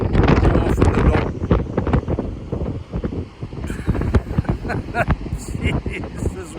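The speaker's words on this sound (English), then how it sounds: "this wind is nailing me" Strong gusting wind buffets the microphone outdoors at a fishing competition, a loud continuous rumble that swells and dips in surges, with someone talking through it.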